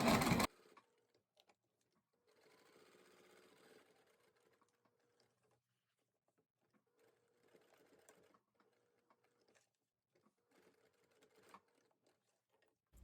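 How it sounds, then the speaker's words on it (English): A sewing machine back tacks over zipper teeth on a wristlet bag, running in several short bursts of rapid mechanical stitching separated by quiet pauses, close and fairly soft. "I'm going to back tack over these teeth a couple times just to make sure that they don't ever come loose when the bag is being used."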